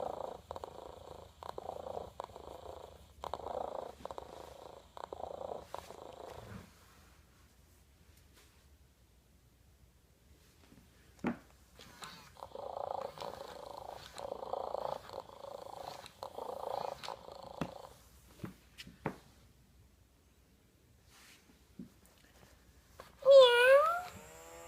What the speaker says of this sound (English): repetitive and synthetic sounding purr